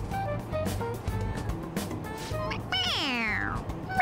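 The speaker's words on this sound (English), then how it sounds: "It meows when you press on its head." A stuffed toy cat in the video game Persona 5 Royal gives a clear, near, high-pitched meow when pressed on its head, rising then sliding down. It sounds over steady game background noise and music.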